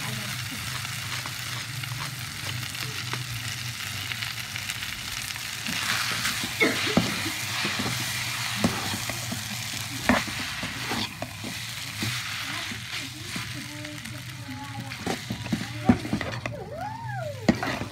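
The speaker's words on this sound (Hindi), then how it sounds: "इधर स्पैगेटी बॉयल हो रहा है और यहाँ पे भी प्याज लाल हो रहा है" Onions sizzle and fry in a pan with occasional stirring scrapes, a steady close hiss, while spaghetti boils nearby; intermittent utensil clicks punctuate the frying.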